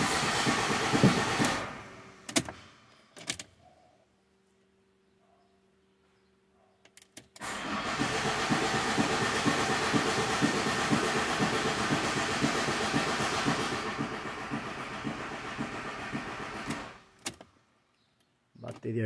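Fiat Ducato 2.8 diesel engine cranking without catching, a long, steady rhythmic churning from the starter lasting about ten seconds, preceded by clicks and a quiet pause with a faint electrical hum.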